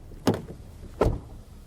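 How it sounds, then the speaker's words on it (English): A 2024 MG3 Hybrid+ city car's door is shut firmly twice, giving two solid, close thuds about three-quarters of a second apart, with no talking. "do want to do a door test"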